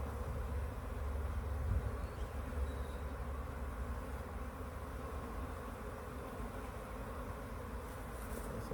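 A honeybee colony hums steadily around the comb as the queen is moved to a new hive, a dense, continuous low drone of many wings close by, fairly quiet and unbroken throughout.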